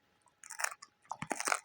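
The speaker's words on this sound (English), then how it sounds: "chewing on a yak milk chewing stick" A dog gnaws on a hard yak milk chew stick, producing close, irregular crunching and biting bursts that come in two clusters with brief pauses between them, and no voices are heard.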